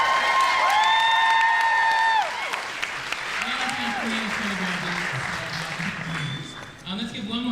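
Applause for graduates at a Black Graduation ceremony, a dense crowd clapping with scattered cheers and whoops, loud at first then easing, while a voice speaks over it.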